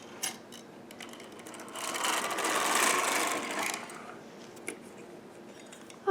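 A Sister toy knitting machine carriage is pushed across the bed knitting rows, a swelling mechanical whoosh and rattle that builds and fades, with small clicks before and after.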